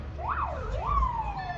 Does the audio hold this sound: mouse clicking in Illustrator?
no